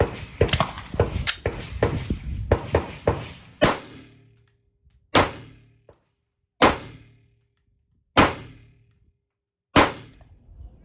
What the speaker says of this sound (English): I'll fire a few rounds with only one hand, so you can maybe get an idea of how the trigger pull is